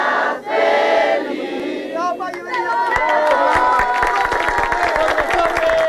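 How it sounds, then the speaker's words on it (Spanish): Family members applaud and cheer as a woman turning 110 blows out her birthday candles, a loud burst of clapping and excited voices filling the room up close, with overlapping chatter. "Con corona de reina y aplaudida por toda su familia, la señora María apagó las velas de su cumpleaños 110."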